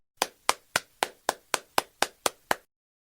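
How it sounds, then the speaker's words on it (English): Ten sharp hand claps in a steady, evenly spaced rhythm, each crisp and close, with no voices, during an English lesson for young children. "Let's put your hands together and clap."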